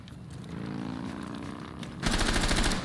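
Rapid gunfire in a tactical shooter bomb-defusal match, a dense steady burst of automatic shots with a louder, brighter volley near the end, no talking.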